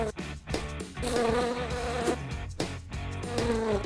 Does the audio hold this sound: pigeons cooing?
no